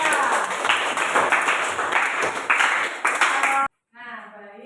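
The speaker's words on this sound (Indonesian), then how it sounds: "tepuk tangan untuk Amanda" Classroom students clapping for a classmate at the end of a guidance session, a busy burst of hand claps lasting several seconds before cutting off abruptly, followed by brief faint sounds.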